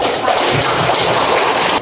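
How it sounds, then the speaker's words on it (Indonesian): Applause for a presenting group in a classroom: dense, loud, continuous clapping from many hands that holds steady and cuts off abruptly. "Tepuk tangan untuk"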